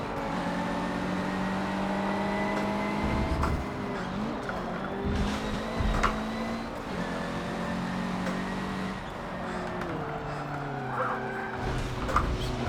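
Racing car engines, including a newer Nissan GT-R, roar and rev in Forza Motorsport 7 at the Nordschleife, with pitch rising and falling through gear changes and occasional sharp tire squeals.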